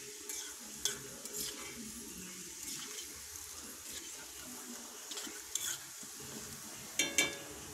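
Rice and garlic fry in herbal oil in a pan, a steady close sizzle broken by scraping stir strokes and a few sharper clinks near the end.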